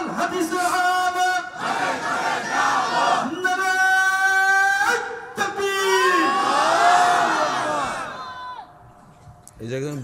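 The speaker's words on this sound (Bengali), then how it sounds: "এই যে একজন বক্তা মানুষ সে তাকবীর দিছে" A large crowd at a rally loudly chants the takbir in unison in answer to a single speaker, sustained voices rising and falling in long call-and-response phrases, then fading to a quieter tail.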